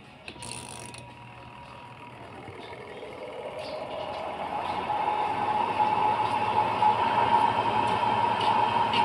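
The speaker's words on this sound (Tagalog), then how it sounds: "Kung maririnig nyo, yan ay may humming sound. Ibig sabihin ay gumagana yung dryer motor." A clothes dryer motor powered on for testing hums steadily, with a faint mechanical rattle, and grows gradually louder and fuller over the span.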